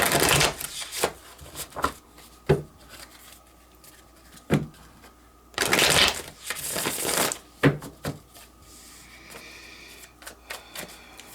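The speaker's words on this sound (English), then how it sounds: "This deck doesn't like to be shuffled like that." A tarot card deck is shuffled by hand in irregular crisp riffles and flutters, with short quiet gaps between bursts, close and fairly clear.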